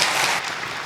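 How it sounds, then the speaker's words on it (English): Audience applause after a lightning talk at the PyCon UK 2025 conference: dense, loud, continuous clapping from a crowd, heard briefly for under a second with no talking. "A huge round of applause for Alex."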